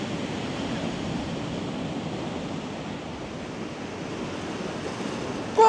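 Ocean waves wash steadily onto the beach at Castlerock, a continuous broad roar of surf with wind noise mixed in, even and unbroken until a brief sharp sound right at the end.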